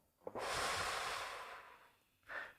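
A single deep breath, a long drawn-out inhale of about two seconds, followed by a brief exhale, close and soft, with no talking.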